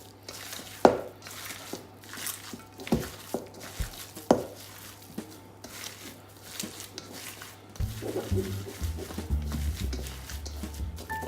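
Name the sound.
hands squashing and mixing a food mixture with Parmesan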